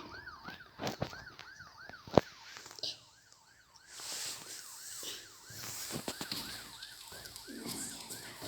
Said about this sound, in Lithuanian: aš įsijungsiu ir sireną